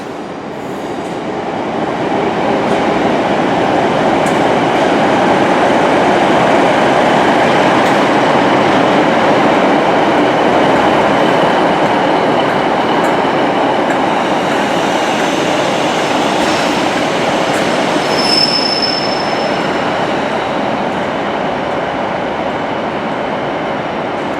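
Class 156 diesel train in old First ScotRail colours at Glasgow Central station, a steady loud rumble of the running train throughout, with faint high squeals from wheels or brakes late on.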